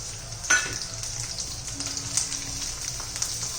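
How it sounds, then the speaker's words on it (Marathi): Chopped carrot and corn kernels sauté in hot ghee, giving a steady soft sizzle and crackle throughout, with a brief louder tap near the start. "बारीक चिरलेलं गाजर आणि मका हे दोन्ही पण घालायचे"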